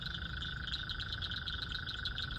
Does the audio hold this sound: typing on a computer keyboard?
no